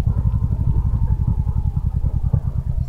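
Small motorbike engine putters steadily up close while riding along a busy road, a rapid rhythmic low thrumming pulse with faint traffic noise behind it.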